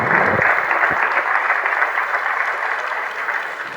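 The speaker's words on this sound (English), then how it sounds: "A huge round of applause, please." Applause from the audience at a graduation ceremony for the class of 2020, a steady, dense round of clapping that holds at an even level and fades slightly toward the end, with no voices over it.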